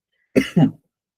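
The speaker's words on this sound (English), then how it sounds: "So sorry, I'm like coughing a little bit." Two quick, close coughs in a row, sharp and loud, followed by silence.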